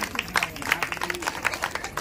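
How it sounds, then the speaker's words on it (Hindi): Audience clapping for themselves at a Hindi political speech rally, a brief patter of moderate applause with scattered claps. "एक बार ताली बजा लीजिए अपने लिए"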